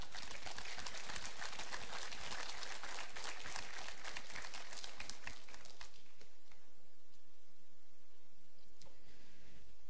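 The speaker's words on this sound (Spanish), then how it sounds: "Denle un aplauso al Señor." A church congregation at a general worship service breaks into loud, dense applause for about six seconds, then the clapping drops away into a quieter hall with a faint sustained tone.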